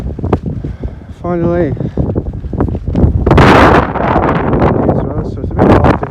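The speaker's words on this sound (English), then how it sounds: "It's a bit windy up here" Strong wind on Dartmoor on a snowy March night buffets the microphone in rough, roaring gusts while a person talks over it, close and loud throughout.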